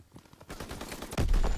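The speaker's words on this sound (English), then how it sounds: "Everyone shoot your guns." Gunfire from a WW2 video game, with scattered shots building into a heavy, loud burst of rapid fusillade in the final half second.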